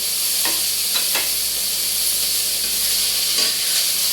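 Food frying in a pan gives a loud, constant close sizzle and hiss, broken by a few scraping strokes as it is stirred, with no talking over it.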